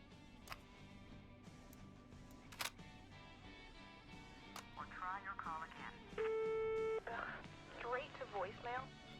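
A phone call in the radio-station game Killer Frequency rings through and drops to voicemail, with dial tones and a steady beep standing out alone over a low ambient hum before a voice begins.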